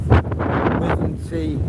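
Strong wind on a wet seaside promenade buffets the microphone with a loud, gusty low rumble, and a voice is heard talking briefly over it.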